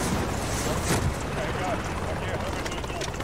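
A helicopter in the Call of Duty: Modern Warfare campaign gives off a steady, loud rotor and engine roar that fills the whole stretch, with a voice talking over it.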